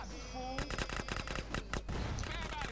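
Rapid automatic gunfire in GTA San Andreas during a car chase, bursts of sharp close shots in quick succession over engine and game background noise.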